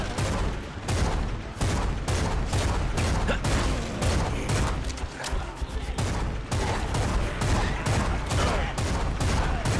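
Rapid, loud pistol gunfire in the video game Bloodshed cracks in quick repeated bursts, close and continuous with barely any pause between shots.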